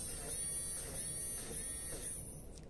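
A battery-operated coloring tool buzzes steadily and close by, a thin, even electric whine that holds for a few seconds and fades slightly at the end.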